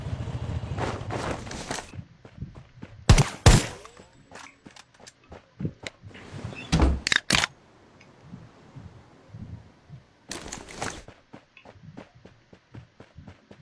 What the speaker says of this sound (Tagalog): Ayun, bumabaril na sila.